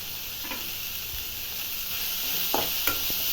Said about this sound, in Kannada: ಇದೊಂದು ಎರಡು ನಿಮಿಷ ಫ್ರೈ ಮಾಡಿಬಿಟ್ಟು